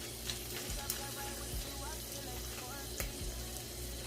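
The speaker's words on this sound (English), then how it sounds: "And y'all can hear the shrimp cooking." Shrimp frying in a pan, cooked alongside cabbage and sausage, give off a steady close sizzle with occasional pops and light stirring scrapes.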